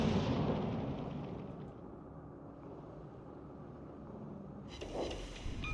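Heavy naval gunfire from 15-inch guns in World of Warships Legends, a loud broad boom that rolls off into a long fading rumble, with a second sharper report near the end.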